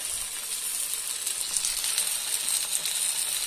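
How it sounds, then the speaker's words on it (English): Brinjal slices fry in a little oil in a pan, giving a steady, close hiss and crackle of sizzling that holds even and unbroken throughout, with no talking. "We are frying it with little oil."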